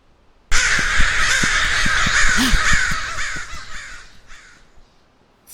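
Ravens caw repeatedly and loudly close by, a harsh chorus of overlapping croaking calls that starts abruptly and fades out toward the end, with no voices.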